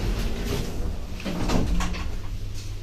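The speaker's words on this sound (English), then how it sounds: "Doors closing." Doors slide shut on a Schindler hydraulic passenger lift at a yellow car park in Sheffield, a close rumbling glide ending in a soft thud against a low mechanical hum.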